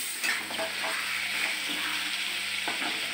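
Spiced onion and potato being sautéed in a pan for a fish curry, with a steady, close sizzle of frying and occasional soft scrapes of stirring throughout.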